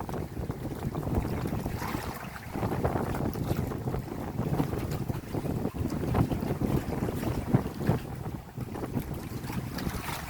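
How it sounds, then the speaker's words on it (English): Rough sea waves slosh and crash around a bouncing boat on a very rough day, with constant gusting wind buffeting the microphone, steady and fairly loud with no talking. "Wow, the sea's rocking here. Let me get a quick clip. Yes, listen to the waves."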